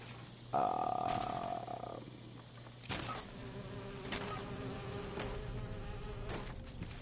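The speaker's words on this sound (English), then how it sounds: "We got more bees." Bees buzzing in the video game Fallout 76, a loud tonal drone starting early and fading, then a lower continuous hum with clicks and faint background ambience.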